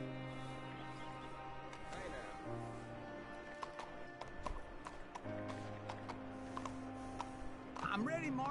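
Faint, rhythmic hoofbeats of a horse moving along in the video game Red Dead Redemption 2, quiet and distant beneath sustained tonal music.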